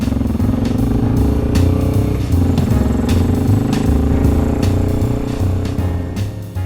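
An adventure motorcycle engine runs loud and close, revving with steady harmonic drone and a few throttle surges over nearly seven seconds, ending with a slight drop.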